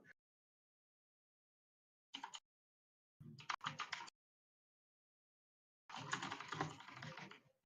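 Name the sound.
typing on a work keyboard, probably a Dell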